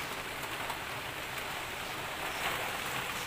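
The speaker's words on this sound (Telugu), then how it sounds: "చాలా గట్టిగా పడింది అనమాట వర్షం." Heavy rain falls steadily on the first day of 2020, a dense, continuous hiss of drops pattering on surfaces at close range, with no voices or other sounds breaking through.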